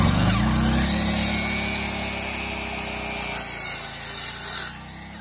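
Power cutter sawing through wood while building a small cabin, a loud, continuous close-up grinding whine that holds steady and then drops off near the end.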